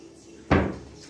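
A small door on a homemade white-veneered ironing cabinet shuts with one quick, fairly loud wooden clap that fades briefly, alone with no voices.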